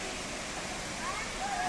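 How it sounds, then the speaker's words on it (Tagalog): Spring water falls into a shallow stream, producing a steady, close, broadband rush of water throughout. "Gikan sa tubod hagbong diri sa sapa"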